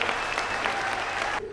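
An audience at a Tamil talk-show debate in Tiruppur bursts into dense applause that cuts off sharply near the end, moderately loud and with no voices.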